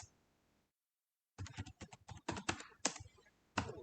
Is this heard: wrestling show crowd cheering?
no